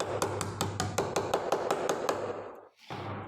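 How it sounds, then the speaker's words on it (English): Solid metal backing of a multi-tool scraper tapping a lid closed, about a dozen evenly spaced sharp knocks, close and loud over steady background hum, followed by a brief pause. "Now closing lids with its solid metal backing, it's absolutely a hit."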